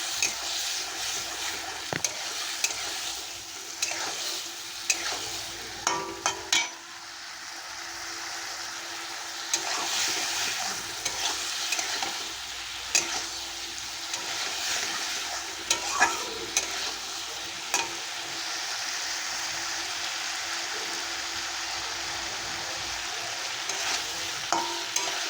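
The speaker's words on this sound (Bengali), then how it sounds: "হলুদ দিয়ে ভালো করে নেড়ে নেবো আমি একসঙ্গে" Bitter gourd and potatoes with turmeric, salt and spices are stirred in a pan, a steady sizzle running throughout with repeated scraping strokes of a spatula, close and moderately loud, no voices.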